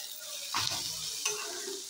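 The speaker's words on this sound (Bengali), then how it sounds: "এখন পেঁয়াজ দিয়েছি কড়াইতে, হলুদ, কাশ্মীরি লঙ্কা আর জিরার পাউডার দিয়ে দিয়েছি।" Onions with turmeric, Kashmiri chilli and cumin powder sizzle steadily in a kadai, with two scraping stirs breaking through the frying noise.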